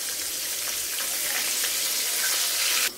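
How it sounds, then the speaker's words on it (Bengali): Six prawns frying together in hot oil, a loud, dense, continuous sizzle heard close up with no talking, cutting off abruptly at the end. "এখন আমি আস্তে আস্তে ভেজে নিব। ছয় পিস একসাথেই ভেজে নিচ্ছি।"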